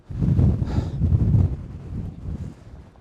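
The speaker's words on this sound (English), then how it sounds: "And that wind is gusting really strong now." Strong mountain wind in the Lake District buffets the microphone in heavy, rumbling gusts that rise and ease over a few seconds, with no other sounds standing out.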